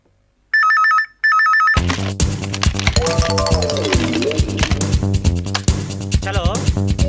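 A telephone bell rings in two loud, close bursts, then gives way to dense music that continues over the rest of the scene.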